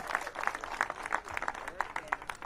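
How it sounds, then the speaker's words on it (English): An audience at a mayoral press event claps briefly in a small, uneven patter of hands with a slight murmur of voices underneath. "So give them all a round of applause."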